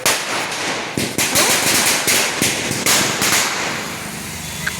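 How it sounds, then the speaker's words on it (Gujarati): Firecrackers burst outdoors near a home in loud, rapid, overlapping cracks and pops, with a continuous crackling barrage that barely lets up for the whole stretch. "આ ફટાકડા ફૂટે એટલે કાંઈ સંભળાય જ નહીં."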